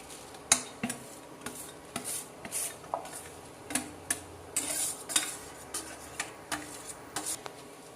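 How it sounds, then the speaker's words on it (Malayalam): Mango pieces stirred into spiced masala for mango pickle, a spoon scraping and clinking against the pan in a steady series of close, sharp knocks and rubs, with no talking. "അപ്പോൾ അതിലേക്ക് നമ്മൾ മാങ്ങ ആഡ് ചെയ്യാണ്."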